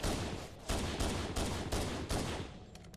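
Pistol gunfire in Halo: Combat Evolved big-team multiplayer, a string of loud, sharp shots repeating roughly every half second over a dense, noisy battle backdrop.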